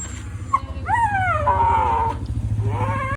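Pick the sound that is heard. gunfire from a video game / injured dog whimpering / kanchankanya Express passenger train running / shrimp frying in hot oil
injured dog whimpering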